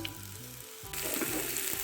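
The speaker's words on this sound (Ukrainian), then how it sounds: "В сковорідку налила 2 столові ложки олії, додаю сюди цибульку" Close, steady sizzling of onion frying in oil in a pan, with the crackle growing brighter and denser about halfway through.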